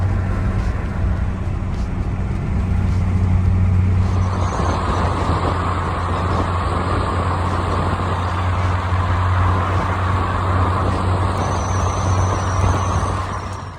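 A Volkswagen Corrado with a Corrado gear set rolls along on a test drive, giving a steady low engine drone and broad road and tyre rush that grows louder partway through, heard from inside the car with no talking.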